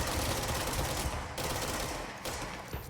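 Rapid automatic gunfire from a gun in the video game Control, a dense continuous burst of shots with brief breaks, fairly quiet overall.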